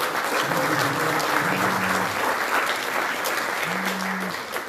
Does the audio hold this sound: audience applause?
yes